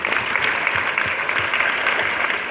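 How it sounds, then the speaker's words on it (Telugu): Dense, steady applause from an audience at a networking gathering fills the whole stretch, loud and continuous with no voices over it. "వాళ్ళకోసారి బిగ్ క్లాప్స్"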